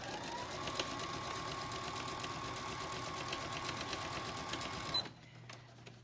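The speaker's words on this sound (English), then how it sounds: "I'm going to back stitch 3 or 4 stitches" Sewing machine stitching fabric for a pillow insert, a steady fast whirring run of stitches for about five seconds before it stops abruptly, leaving a low hum.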